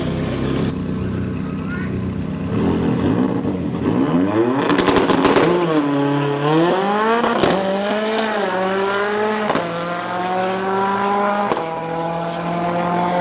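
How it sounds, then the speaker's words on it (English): A Vauxhall Corsa launches down the drag strip at Santa Pod Raceway, its engine loud and near, rising in pitch through repeated gear changes over a burst of clatter as it pulls away. "It is a quick little Corsa."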